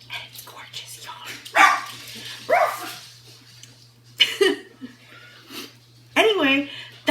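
Dogs bark in several loud, scattered bursts as they come in through a door at home, close by, with a person talking between and under the barks.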